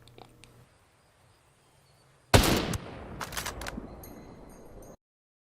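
A single long-range rifle shot in the video game Ghost Recon Breakpoint, a sharp loud crack out of near silence followed by a long fading tail and faint clicks.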